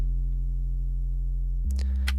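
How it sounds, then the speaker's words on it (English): A simple sine-wave sub-bass synth, shaped by a filter, holds one steady low tone, then steps to a slightly higher pitch near the end while faint clicks and brighter blips appear. "just a sine wave. It can't get more simple than that,"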